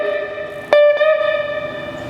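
An electric guitar note is plucked once through a delay pedal set to a longer delay time, ringing clearly with a softer repeat following shortly after, over a faint lingering tone.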